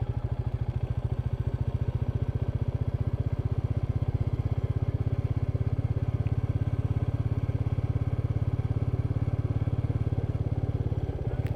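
A Royal Enfield Meteor 350 single-cylinder engine thumping steadily in second gear while ridden off-road, a close, even low pulse with rattling clatter over it throughout.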